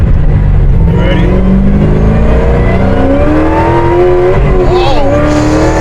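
A 1969 Camaro fitted with a Whipple supercharger accelerates hard, its loud engine note climbing steadily in pitch through a gear with supercharger whine on top, close and continuous, while voices talk over it.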